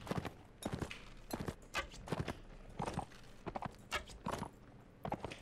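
Swadian knights' horses in the Mount & Blade video game make rhythmic hoof clip-clops in quick clusters, moderately near and fairly quiet, with no voices.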